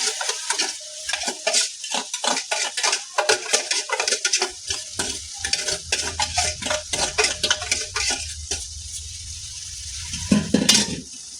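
Garlic, ginger and green chillies stirred in a pan, a close series of rhythmic metal spoon scrapes and clinks against the pan over a low sizzle, with no talk.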